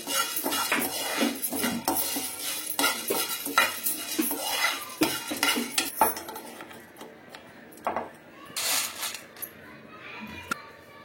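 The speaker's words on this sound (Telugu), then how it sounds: "ఇప్పుడు పప్పులు కూడా లైట్ గా ఫ్రై చేసుకోవాలి" A utensil scrapes and clatters against a metal pan in quick irregular strokes as dry lentils are roasted, stirred and tossed.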